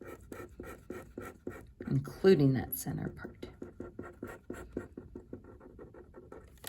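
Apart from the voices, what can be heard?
coloring in shading with a pen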